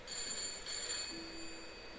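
An electronic telephone ring sounds in the Layers of Fear horror game, a steady high-pitched trill that carries on alone for the whole stretch.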